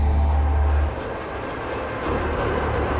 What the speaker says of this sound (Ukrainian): Потяг рушає.